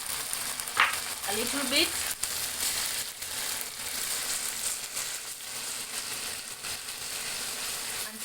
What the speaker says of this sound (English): I'm going to add my garlic and then cook it up